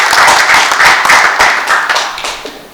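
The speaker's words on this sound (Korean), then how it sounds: "박수를 해주시기 바랍니다." Brisk, close clapping from an audience at a lecture event, loud and continuous with individual claps audible, fading slightly toward the end.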